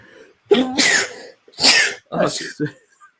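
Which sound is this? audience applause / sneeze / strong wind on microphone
sneeze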